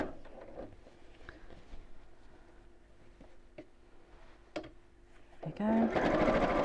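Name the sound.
sewing machine stitching tote bag handles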